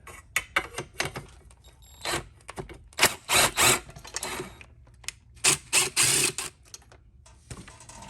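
A wrench works loose the 12 mm exhaust bolts on a Honda XR650 dirt bike, giving bursts of rapid metallic ratcheting clicks in short uneven runs separated by brief pauses, close and fairly quiet.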